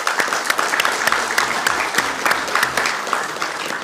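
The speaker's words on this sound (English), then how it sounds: "One more round of applause for the group." A city council meeting audience gives sustained applause for a youth group, with dense, steady clapping throughout and no speech over it.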